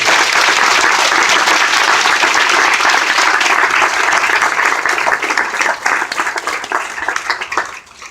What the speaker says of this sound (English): let's do one last round of applause for Rare Disease Day 2018